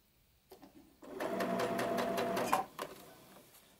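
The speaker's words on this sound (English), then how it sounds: "I will slowly start sewing this" A sewing machine stitches a set-in sleeve onto a garment, starting with a couple of short taps, then a steady close whirring run of about two seconds that trails off in a few slow stitches.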